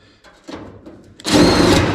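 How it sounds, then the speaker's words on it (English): A few soft handling clicks, then a power drill whirs loudly as it drives a self-drilling screw for the final second. "I just like to get a little pilot hole in those, and then I can use this to self-drill."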